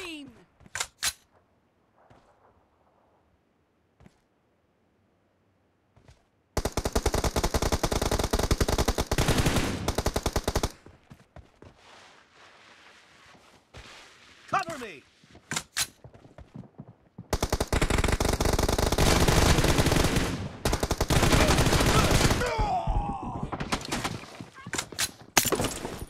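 Rapid automatic bursts of M416 rifle fire in PUBG Mobile, long loud sustained volleys broken by short gaps and sparse single shots, with some game voice between bursts.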